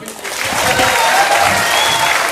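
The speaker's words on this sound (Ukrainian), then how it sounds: "Ваші оплески, друзі!" Applause from a comedy-show audience in Ukraine, a dense steady wash of many hands clapping that swells quickly after a brief quieter start and holds loud and even to the end.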